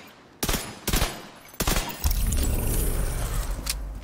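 Gunfire in The Division 2 during a supply convoy activity: a few sharp separate shots at first, then a sustained dense burst of automatic fire rattling loudly until the end, with no talk.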